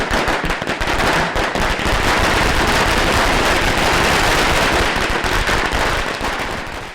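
Firecrackers bursting outside a cinema, a dense, loud, continuous crackle of rapid pops that fills the whole stretch without pause, with no voices heard over it.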